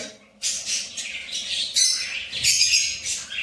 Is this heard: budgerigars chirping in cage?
yes